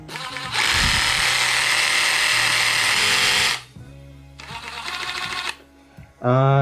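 A DeWalt DCS369N cordless reciprocating saw runs in loud, buzzing bursts: a long run, a pause, a shorter run, then a brief revving start.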